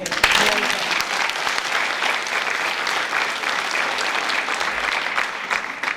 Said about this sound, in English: Please give a well-deserved round of applause for all their hard work and achievements.